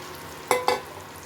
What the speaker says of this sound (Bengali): এবার এই সেদ্ধ করা আলুটা এর মধ্যে আমি দিয়ে দেবো, দিয়ে ভালো মতো মিলিয়ে নেব